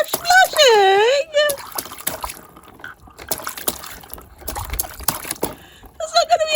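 A baby splashes in water, the slaps and trickles coming in short bursts while someone talks in a high, playful voice over much of it.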